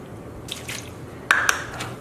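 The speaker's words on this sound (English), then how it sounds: "We're just going to pour a little bit in." Organic unsweetened plain soy milk is poured in small splashes over cooked potatoes for a vegan shepherd's pie, giving a few brief wet drips and squishes close up, with quiet gaps between them.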